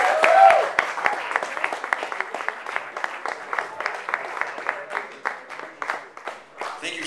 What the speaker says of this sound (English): a round of applause for Get a Game